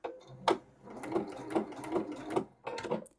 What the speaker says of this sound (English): I'm going to stitch using a slow speed on my machine